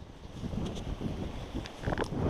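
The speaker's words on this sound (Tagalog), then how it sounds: "Ang lakas na lalo ng hangin." Strong wind buffets the microphone during a trout fishing outing, gusting in uneven surges with faint splashes and knocks, no voices.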